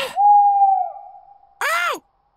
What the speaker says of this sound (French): Je crois que c'est un hibou!